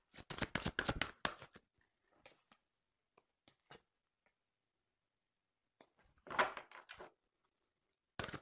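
Tarot cards being shuffled for a reading, heard as a quick burst of riffling flutters up close, then scattered soft taps and card handling, with another shuffling flurry later and a final snap at the end.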